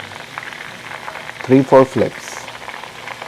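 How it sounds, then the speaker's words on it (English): Tandoori chicken deep-fries in canola oil inside a Dutch oven pot, a soft steady bubbling sizzle running throughout under a short spoken phrase. "It's been 30 minutes of deep frying in canola oil our fried tandoori chicken recipe"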